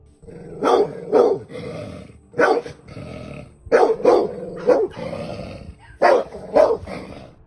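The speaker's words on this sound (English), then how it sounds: "These are the barks of pure, unadulterated rage and adrenaline." A dog barks fiercely in paired bursts with growling in between, loud and close, repeating for several seconds.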